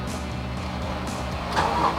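A Toyota Hilux Rangga with a 2400 turbo intercooler engine runs at a smooth idle, a steady low hum close by that swells slightly near the end, heard at an auto show.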